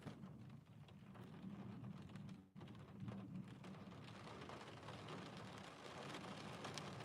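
Steady rain falls with a dense, even hiss and patter throughout, with one short dip in the middle, a fairly faint and continuous wash with no voices over it.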